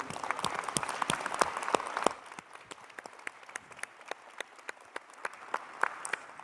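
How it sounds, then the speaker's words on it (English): Applause from a ceremony audience at an awards of excellence event, dense and lively at first, then thinning to scattered individual claps that carry on at lower level. "a good applause to all of you"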